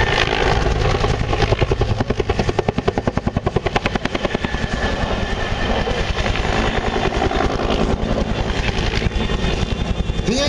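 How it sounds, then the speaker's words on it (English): An Agusta Bell AB212 helicopter at an airshow adds power and climbs, its loud, steady rotor thump and turbine roar filling the air continuously. "adding power to the aircraft and climbing vertically while spiraling around to his right"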